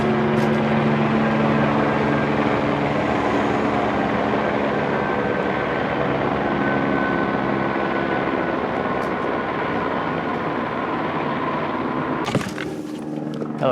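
A helicopter closes in, its rotor roar building into a loud, continuous thrum that dominates throughout before cutting off abruptly near the end.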